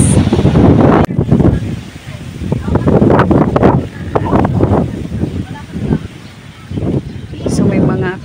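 Strong wind buffets the microphone at the Canyon Cove seaside resort in Batangas, a heavy low rumble that swells and dips throughout while a person talks over it.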